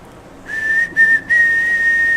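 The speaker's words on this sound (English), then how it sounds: "I'll whistle it for you" A person whistles a tune, one steady sustained melodic line with two short breaks, clear and fairly close with no other sound alongside.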